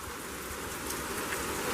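Steady rain mixed with rushing gusts of wind in a thunderstorm with frequent lightning, a dense, continuous hiss that holds loud and unbroken throughout.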